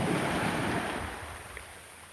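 Surf washing onto a white-sand beach under an overcast sky, a steady broadband rush with wind buffeting the microphone, loudest at first and easing slightly, with no voices.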